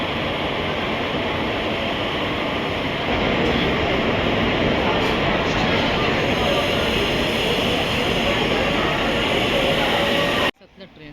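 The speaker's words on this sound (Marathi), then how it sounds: "आत्ता आमची ना नागपूर ट्रेन येते" The Nagpur passenger train arrives at a Konkan railway station with a loud, steady roar of rolling carriages that continues for about ten seconds before cutting off abruptly, and voices can be heard beneath it.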